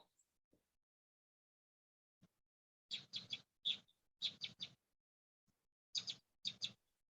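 A small bird chirps indoors in quick bursts of two or three sharp tweets, repeated several times with quiet gaps between, close and clear.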